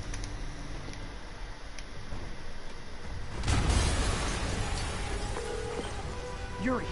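A bomb explosion in the Spider-Man video game bursts in suddenly partway through, a loud broadband boom with a rumbling tail over steady background ambience, followed by a short high game tone.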